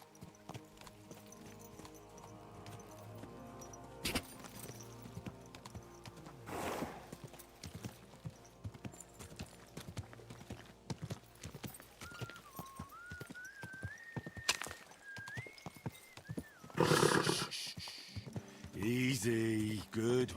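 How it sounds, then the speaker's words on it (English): Horse hooves clip-clopping with occasional whinnies in the medieval game Kingdom Come: Deliverance 2, set against background music, with a louder burst of sound near the end; a person speaks briefly. "Easy, good horse."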